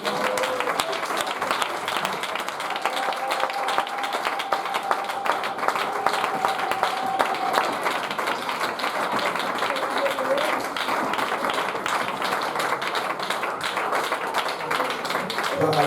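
A church congregation claps steadily and continuously, a dense wash of hands filling the room with no break, while some voices murmur faintly beneath the applause.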